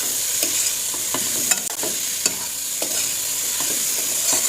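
Dry-roasted spices and tomato are stirred in a hot pan for cauliflower dal, giving a steady close sizzle with repeated scraping taps of the spoon, and no talking.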